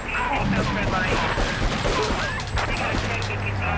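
Gunfire in the PlayStation 2 game Grand Theft Auto 3 during a rampage, a dense, loud run of shots and crashes across the whole stretch, with a voice talking over it.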